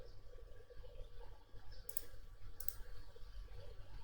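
A computer mouse clicks twice, short, faint taps about a second apart, over a quiet low room hum.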